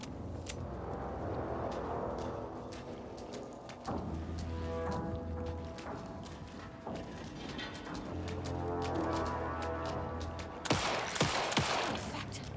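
Rapid gunfire in the video game Alan Wake 2, bursts of sharp shots over low engine-like drones, with a denser cluster of loud reports near the end.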